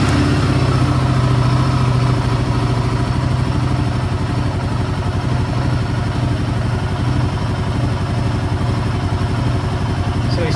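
A Royal Enfield Guerrilla 450 motorcycle engine runs steadily at idle nearby, a dense continuous low rumble holding at a constant loud level throughout with no voices.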